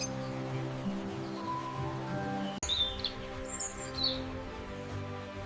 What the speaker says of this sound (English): This is a lovebird.